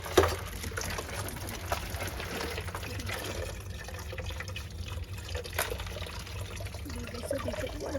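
Water from a water line runs steadily into a container inside an indoor greenhouse, a continuous close splashing pour that holds throughout without talking.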